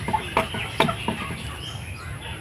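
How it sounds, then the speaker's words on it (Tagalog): A mother hen recovering from illness clucks in short, soft repeated notes close by, over steady background noise. "Inahin na manok nanay."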